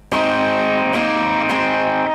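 A distorted electric guitar bar chord strummed rings out loud and sustained, restruck twice more at roughly half-second intervals, with no voices.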